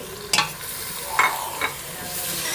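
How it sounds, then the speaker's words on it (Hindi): Onions fry in a hot pan, a dense, steady sizzle broken by three quick scraping strokes of a spoon being stirred through them, heard up close with no voices. "अब इसको प्याज को तब तक भूनेंगे जब तक ये नरम ना हो जाए"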